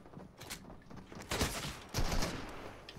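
Revolver shots in a Fortnite match, a few separate loud blasts with short gaps between them over quieter game background.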